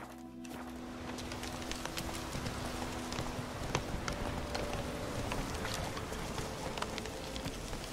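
A horse gallops in The Witcher 3, rapid clip-clop hoofbeats over a constant dense wash of wind and rushing ambience, steady and close for the whole stretch.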